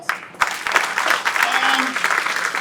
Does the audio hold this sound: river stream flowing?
no